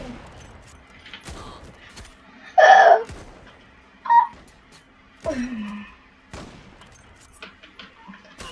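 A few sharp AWP sniper rifle shots in the shooter game Zula, spaced seconds apart, with softer in-game clicks and handling noises between them at moderate loudness.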